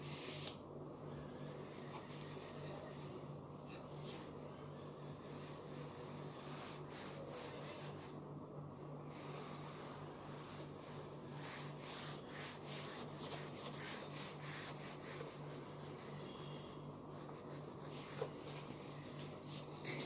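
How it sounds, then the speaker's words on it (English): A board is rubbed clean in a classroom, giving a soft, continuous scrubbing rasp with faint rhythmic strokes that continue for the whole stretch without talk. "Let me rub the board before that."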